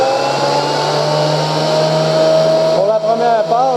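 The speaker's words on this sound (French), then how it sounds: "avec le planeur pour resurfacer l'autre côté" A wood planer resurfacing recycled pallet wood, a loud steady whine with a strong hum, the motor pitch wavering as the board feeds through near the end.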